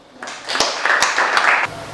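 A short burst of applause from students in a classroom, many hands clapping together briefly and fairly close, then stopping.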